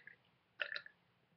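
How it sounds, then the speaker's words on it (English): A single short burp from a girl, a brief throaty eructation in two quick pulses, fairly faint and alone against a quiet background. "but I can burp."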